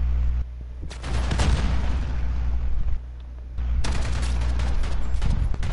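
Gunfire from a weapon in the video game Modern Warfare crackles in dense, loud bursts of rapid shots, with a short lull between volleys before the firing resumes.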